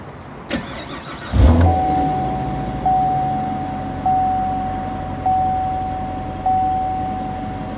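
A 2015 Chevrolet Corvette Stingray Z51 convertible starts with a loud cranking bark and engine roar, then settles into a steady idle, with a chime repeating at regular intervals and no talking.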